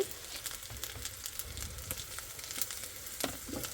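Ginger with turmeric frying in a pan, a faint steady sizzle with soft crackles and light stirring scrapes, no voices.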